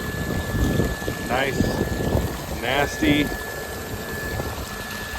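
Pump flushing manure water, a steady broad rushing and gurgling noise heard close and continuous, with a few brief spoken remarks over it.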